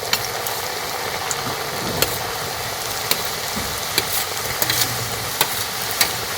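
Flour biscuits deep-frying in oil to golden brown give a dense, steady, close sizzle with faint periodic clicks of a utensil against the pan, and no one speaks.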